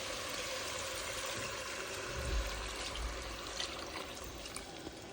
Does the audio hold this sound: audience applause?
no